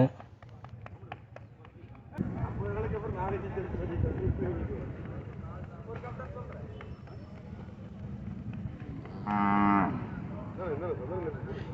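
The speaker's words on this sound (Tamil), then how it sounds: "இந்த மாடு தான் வந்து பார்த்திங்கன்னா ஒரிஜினல் காங்கேயம் மாடு" Kangayam bull lowing at a Pongal bull race in Tamil Nadu, a deep sustained moo rising near the end over steady crowd noise and someone talking throughout.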